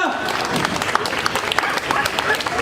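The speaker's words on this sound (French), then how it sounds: "il y a au moins quelqu'un qui me soutient, qui m'applaudit" Scattered applause from a comedy show audience during a French stand-up set, a few hands clapping in a thin, irregular patter that carries steadily through the clip.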